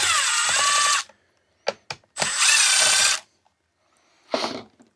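A power driver whirs in bursts while removing cover screws from a Stihl FC91 edger, with two long loud runs, short blips between them and a final brief burst, close and with no talk.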